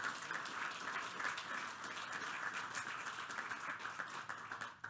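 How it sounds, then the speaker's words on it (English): Applause at a township council meeting honoring EMTs, a steady roomful of clapping heard at some distance, fairly soft and continuous throughout with no talk over it. "round of applause for them."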